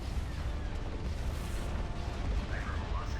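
Weapon fire and explosions in a space battle in Empire at War's Thrawn's Revenge mod: continuous heavy booming and rumbling blasts, dense and steady, with a faint voice in the background.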